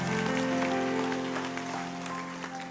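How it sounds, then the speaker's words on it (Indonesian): Applause from a church congregation during a sermon, a dense wash of clapping over sustained organ or keyboard tones, steady and fairly loud before easing slightly toward the end. "Berikan tepuk tangan untuk Tuhan."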